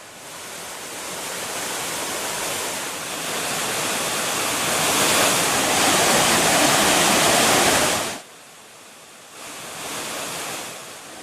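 The Thirparappu waterfall pours with a steady, dense roar of rushing water that swells louder, then drops suddenly to a quieter, softer wash near the end.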